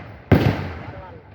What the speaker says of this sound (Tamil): உனக்குன்னு ஒரு வெடி சத்தம் வச்சிருக்கிறாங்க